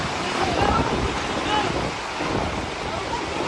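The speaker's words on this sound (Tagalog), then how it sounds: "habang binabayo ng malakas na hangin at ulan" Typhoon Tino's strong wind and rain batter La Carlota City, Negros Occidental during flooding, a loud, continuous roaring wash with gusty swells and no letup.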